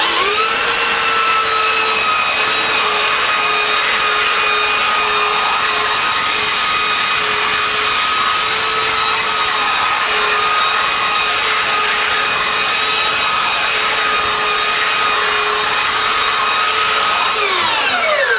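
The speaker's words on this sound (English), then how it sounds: "you notice I go cross grain when I sand the back" Power sander with 40-grit abrasive working across the grain on the back of a bamboo carving, a loud, steady, continuous whine and hiss that holds unbroken for about eighteen seconds before cutting off at the end.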